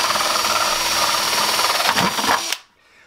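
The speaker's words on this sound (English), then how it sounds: "take your 5/8, just a little bit over 1/2 drill bit, and put a hole in the side of a bucket," A power drill with a 5/8-inch bit bores a hole through the side of a plastic 5-gallon bucket, a steady close whining grind lasting a few seconds before cutting off abruptly into quiet.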